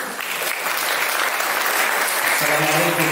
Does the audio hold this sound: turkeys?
no